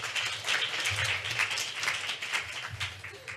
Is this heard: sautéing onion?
no